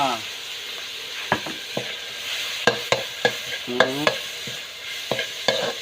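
Wild duck stir-fried with holy basil in a pan, a constant loud sizzle broken by repeated metallic clanks of a spatula scraping and tossing at an uneven rhythm.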